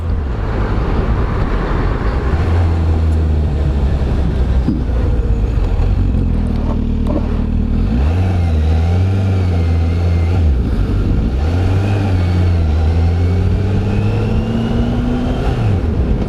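A Kawasaki Ninja H2 SX SE sport-touring motorcycle rides along country roads. Its engine hums and rises and falls in pitch as it speeds up and slows, under constant loud wind rush across the microphone.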